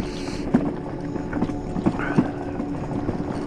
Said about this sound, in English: there is a very frigid cold wind blowing